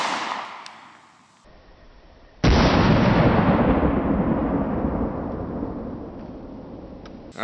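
A single sharp, loud gunshot from a small .45 ACP pistol firing Federal Punch ammunition, with a long echoing rumble trailing off over several seconds after a quiet lead-in.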